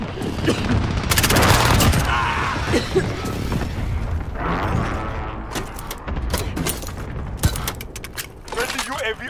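A precision airstrike in the Call of Duty game Prototype Omega mode lands as a run of loud booms and crackling gunfire, mixed with other chaotic battle noise while voices talk through it.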